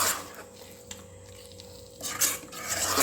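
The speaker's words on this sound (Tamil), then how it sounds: "இப்போ வந்து நல்லா அந்த தக்காளியை வந்து கலந்து விட்டு" A spoon scrapes and stirs tomatoes in a pan for chicken gravy, with soft clinks against the metal and a faint sizzle underneath, growing louder toward the end.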